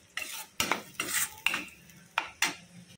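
Thick ground coconut, cumin and garlic paste being stirred into an onion curry in a pot, a spoon scraping and knocking the pan in several distinct strokes with light sizzling between them, close and alone.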